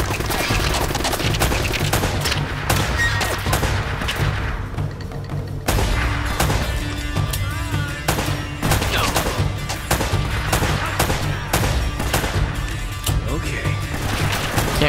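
Gunfire from a PS4 playthrough of Uncharted: Drake's Fortune Remastered, dense and continuous over a loud game soundtrack, with rapid shots and impacts layered under the player's voice.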